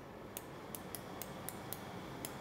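Small scissors snip wire in a tool and mould making workshop during laser repair welding: about eight sharp, faint clicks in an uneven run over a low steady hum, with no speech.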